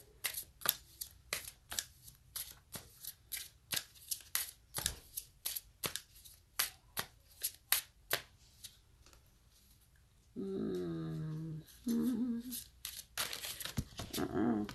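Crystal oracle cards shuffled at close range, a quick run of crisp flicking riffles, then a pause before one card is drawn with a soft slide, as a person begins talking near the end.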